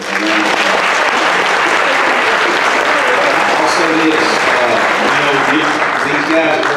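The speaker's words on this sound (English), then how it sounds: "Let's give them a round of applause." A gymnasium crowd at a school fall athletic awards night gives senior high school football players sustained, loud, dense applause throughout, steady and unbroken.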